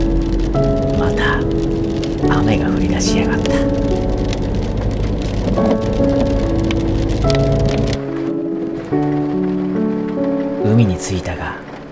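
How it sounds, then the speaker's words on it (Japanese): Rain falls steadily on a rainy day trip near a cliffside temple in Chiba, Japan, a soft constant patter under a narrating voice and background tones, with a brief pause before the hiss resumes. "また雨が降り出しやがった。"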